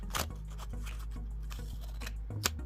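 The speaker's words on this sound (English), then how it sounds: "Let me grab some scissors really quickly and just cut this piece off." Scissors snip through a piece of paper in a quiet room, several short crisp cuts and a light rustle spread across a few seconds.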